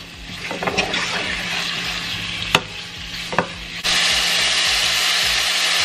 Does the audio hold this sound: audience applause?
no